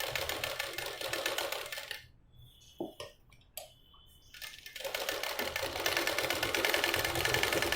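Stitching a boat neck, princess cut blouse, a sewing machine whirs loud and close, pauses for about two seconds amid a few clicks and knocks, then starts up again and runs steadily to the end.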